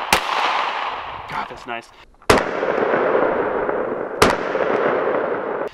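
Three sharp, loud shots from a Glock 43X pistol ring out about two seconds apart, each with a short decaying echo, and a person speaks briefly between the first two.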